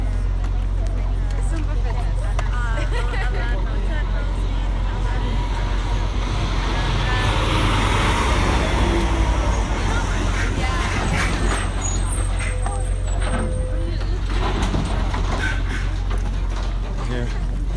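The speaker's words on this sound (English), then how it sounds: "we've got a truck coming" A truck rumbles past on a road during an outdoor pig vigil in Los Angeles, a steady low engine drone with a brief air-brake hiss, under the chatter of a gathered crowd.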